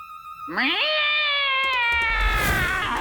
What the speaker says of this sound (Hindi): ये वही मोटी बिल्ली होगी।